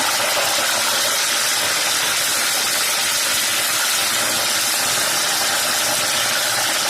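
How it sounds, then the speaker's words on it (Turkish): Garlic cloves frying in hot oil in a pan until lightly browned, giving a loud, continuous hissing sizzle that holds steady throughout without any talking. "sarımsaklarımızı pembeleşene kadar kavurduk"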